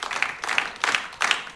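A studio audience on a television music show claps in four short bursts, each swelling and then dropping back to a brief pause.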